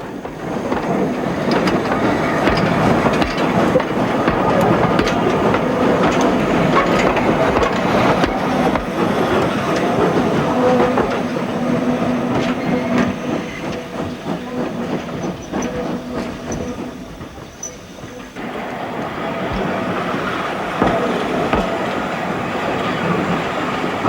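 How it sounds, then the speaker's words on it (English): GWR steam locomotive 6998 Burton Agnes Hall runs along the main demonstration line at Didcot, giving a steady, loud rolling rumble with rhythmic rail clatter throughout and a short dip in level near the end. "6998 is at last ready to go out onto the main demonstration line for a day's steaming."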